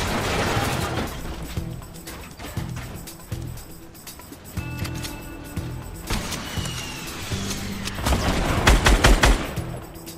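Fortnite Battle Royale gunfire on Android mobile, dense rapid bursts of automatic shots and scattered single cracks, loud and continuous, with heavier volleys toward the end.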